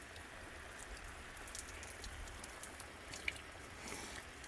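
Steady rain falls on and around a Tesla with its Falcon Wing doors raised, a continuous soft patter of drops with occasional closer drips, moderate and unbroken throughout.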